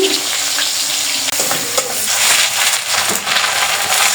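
Onions fry in hot oil in a kadai, giving a steady, close sizzle with crackling bursts that runs the whole time with no talking.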